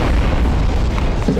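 A bomb goes off in the game Garry's Mod, giving a loud, dense boom with rumbling debris that fills the whole short moment without pause.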